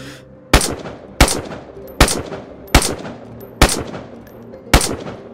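Six sharp, loud gunshots in the DayZ video game, evenly spaced roughly two-thirds of a second apart, each a crisp crack trailing off into a brief echo over a quiet background.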